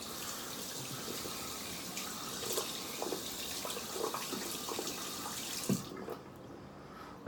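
A tap runs steadily as a metal shaving container is rinsed, a close, continuous splashing gush that drops away near the end.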